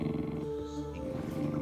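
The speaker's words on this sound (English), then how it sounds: "He's actually growling and showing teeth." A distressed dog growls low and steadily at close range, a rumbling tonal snarl that holds for over a second and then trails off into breathy noise.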